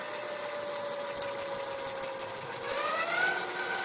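A Corso Rocco 24-inch 500W 48V electric bike motor runs in third gear, giving a steady whine that rises in pitch near the end, heard close and alone.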